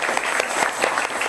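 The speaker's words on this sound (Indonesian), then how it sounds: "boleh berikan tepuk tangan dulu teman-teman" Short burst of audience applause from students and teachers at a junior high school talk event, a steady wash of clapping throughout with no voices on top.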